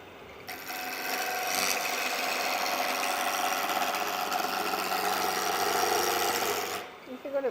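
Wood lathe turning a lidded box with a bowl gouge, a steady, loud rasping cut over the motor hum that continues for several seconds and then stops abruptly.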